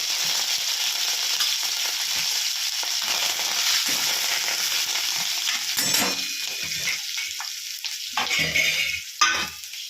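Dried red chilies, bay leaf, cloves, green chilies, curry leaves and asafoetida frying in hot oil for tempering a millet khichdi, a loud continuous sizzle with stirring scrapes and a few sharp clatters near the end.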